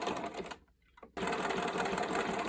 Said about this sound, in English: So I'm sewing right on the edge here.